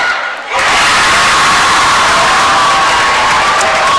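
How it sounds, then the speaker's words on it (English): A home crowd at a high school boys basketball game bursts into loud cheering after a brief quiet moment, then holds a sustained roar of shouts and applause for a successful free throw. "you can tell by the home crowd on our radio listener side that free throw is good"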